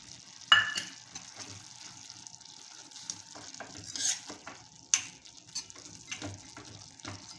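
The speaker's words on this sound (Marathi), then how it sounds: "2 चमचे शेंगदाण्याचं कूट घालूया." Ground peanut powder stirred into a simmering guar bean curry: soft intermittent scraping and stirring strokes over a faint sizzle, fairly quiet and irregular, with no talk.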